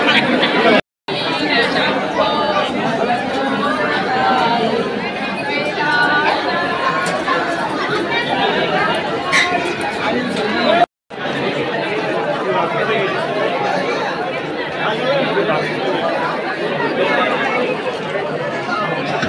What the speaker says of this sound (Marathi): गर्दी इतके भयंकर एकदम धक्काधुक्की सुरू आहेत.